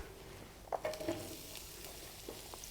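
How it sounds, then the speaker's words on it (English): Chopped onions drop into an oiled pan for soya tikka masala, giving a faint, brief sizzle with a couple of soft clatters near the start before settling into a low, quiet fry. "So to this we're going to add a little bit of our chopped onions"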